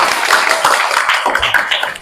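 A group claps together after an Indonesian classroom-style presentation, steady close clapping lasting about two seconds with no voices.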